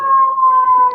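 A single steady siren tone held for about a second, loud and close, a clean sustained pitch with no talking over it.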